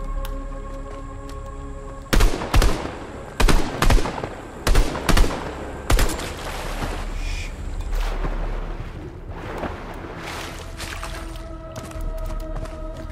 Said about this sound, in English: someone shooting right there